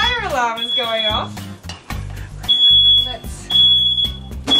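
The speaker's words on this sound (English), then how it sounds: "you make sure you rest them while the fire alarm is going off" A smoke alarm shrills in repeated high electronic beeps in a home kitchen while filet mignon rests after searing, with pan clatter and a voice talking over the loud chirps.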